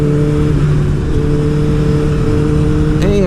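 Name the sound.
Honda CBR1000RR motorcycle engine revving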